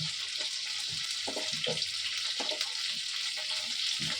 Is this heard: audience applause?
no